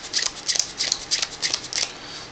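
Playing cards dealt one by one onto a pile, a quick regular run of crisp snapping and flicking sounds, close and loud with no talking.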